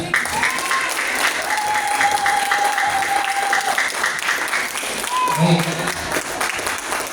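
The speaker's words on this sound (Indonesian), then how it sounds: "kita awali dengan tepuk tangan yang meriah" Lively applause from a seminar audience fills the room, dense and continuous, with a held tone and brief vocal sounds surfacing above the clapping.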